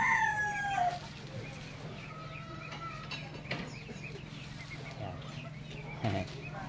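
A fighting rooster at a farm in Atimonan, Quezon Province crows once, loud and close, at the start, then faint clucks and distant farmyard noise continue over a steady low hum.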